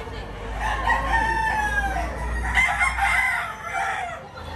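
Roosters crowing and hens clucking at a Batangas poultry market, several birds calling loudly and close over a steady low hum of the crowded sale.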